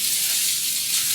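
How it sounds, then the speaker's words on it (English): Fusilli pasta and pork fry in a hot pan for yaki pasta, giving a steady, close, dense sizzle with even crackle and no voices. "we're going to get that fusilli just fried a little bit"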